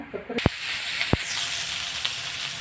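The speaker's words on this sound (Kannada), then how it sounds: "10-15 ಎಲೆಯಷ್ಟು ಕರಿಬೇವನ್ನು ಹಾಕ್ಕೊಳ್ಳೋಣ. ಚಮಚದಿಂದ ತಿರುಕೊಳ್ಳೋಣ." Curry leaves sizzle and fry steadily in hot oil with mustard seeds, a close continuous hiss with a few sharp spoon clicks against the pan.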